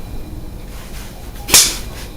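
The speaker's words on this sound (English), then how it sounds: "And she slapped him and yelled later" A single sharp slap sound effect, a crisp whip-like crack that lands alone after a stretch of quiet hiss.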